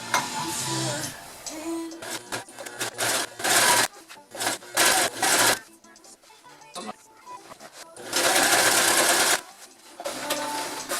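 A sewing machine runs a small seam on a boat bimini, working in uneven bursts of loud, close whirring with short pauses between them, then one longer sustained run.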